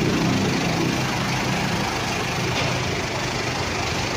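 A freshly repaired car engine runs smoothly at idle, a steady mid-level mechanical hum with a soft low rumble, constant and unbroken for a few seconds with no talking.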